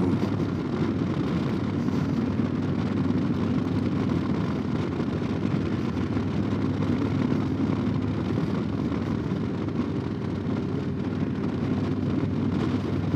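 A motorcycle with a 107 engine cruising along, its steady low engine drone mixed with wind rush for the whole stretch, close and continuous with no speech.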